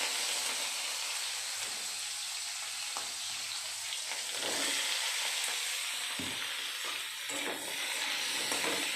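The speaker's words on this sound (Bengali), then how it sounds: "আমি দেখো কেটে রেখেছি সিম, বেগুন, আলু, এগুলো আমি একটু দিয়ে লাল লাল করে ভেজে নেব" Cut flat beans, eggplant and potato pieces frying in a pan, a continuous close hiss and crackle with occasional stirring knocks and scrapes, no talking.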